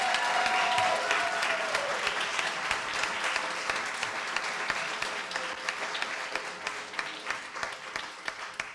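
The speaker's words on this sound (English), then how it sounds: "So please join me for one round of applause." Steady audience applause for the judges at a business school competition event, a full wash of clapping that gradually thins into distinct individual claps toward the end.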